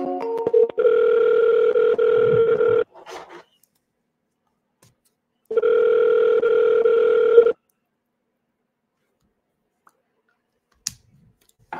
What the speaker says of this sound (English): I'm going to double dial him.